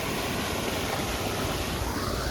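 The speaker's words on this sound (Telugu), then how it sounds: "వాటర్ ఫ్లో కానీ ఆ సౌండ్ కానీ చూడండి" Floodwater rushes and flows into a village pond in a loud, continuous roar of moving water, close and unbroken, with no talking.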